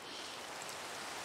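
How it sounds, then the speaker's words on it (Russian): Rain in the Minecraft FTB Continuum modpack, a steady soft hiss of falling drops that holds evenly throughout, faint and uninterrupted, with nothing else over it. "Так, и дождь начался."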